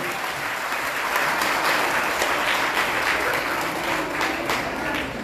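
Loud, dense applause from a crowd at a public event in honor of Dr. Heena, steady clapping sustained throughout with no break.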